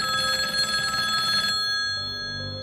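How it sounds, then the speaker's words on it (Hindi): A mobile phone ringing indoors with a steady electronic ringtone, clear and close, that cuts off partway through and leaves a low background hum. "कि अचानक मानसी का फोन बजा।"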